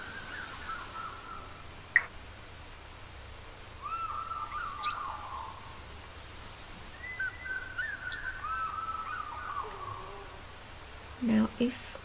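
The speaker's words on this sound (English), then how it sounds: "Lots of birds." Wild birds call in the theHunter: Call of the Wild hunting game: scattered chirps and short whistled calls sound faint and somewhat distant over a steady ambient hiss, with a couple of sharper clicks near the end.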